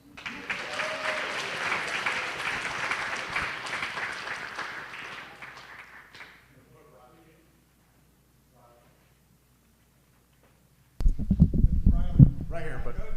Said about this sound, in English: a quick round of applause for our sound people